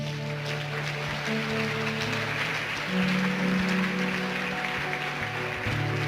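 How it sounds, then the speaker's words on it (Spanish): Church congregation applauding for the Lord: continuous crowd clapping with sustained musical tones from keyboard or organ underneath. "Dale un aplauso al Señor"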